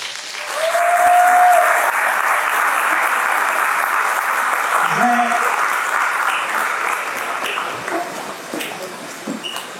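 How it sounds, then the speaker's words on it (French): A church congregation applauding together during a worship service, a steady dense wash of clapping sustained throughout, loud and close, with faint voices and a brief tonal ping mixed in. "Levez-vous, acclamez le Seigneur."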